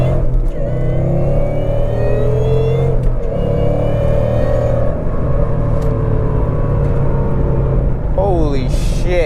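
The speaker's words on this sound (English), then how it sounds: "I'm going to do a second gear pull." Supercharged 2011 Coyote Mustang makes a loud second-gear pull from 3,000 RPM, its engine roaring continuously with rising pitch and supercharger whine close up, and a brief voice near the end.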